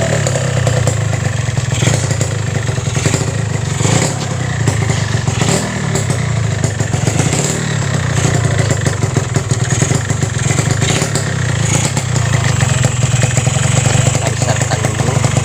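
A Yamaha RX King two-stroke motorcycle, being checked for an electrical fault, runs close by with a loud, steady, rattling engine note throughout.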